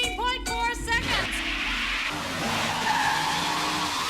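A Mercedes E-Class on a test drive in a television commercial skids with a loud tire squeal that sweeps sharply in pitch, then settles into a steady engine and road rush, close and prominent.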